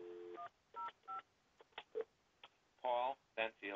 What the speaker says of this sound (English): Now, let me call extension 105.